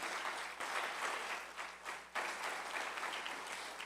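A church congregation gives a long, steady round of applause, a dense wash of many hands clapping at once that swells and dips slightly over a few seconds, heard at moderate volume from inside the room.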